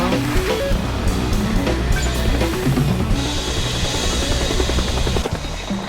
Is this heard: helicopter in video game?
yes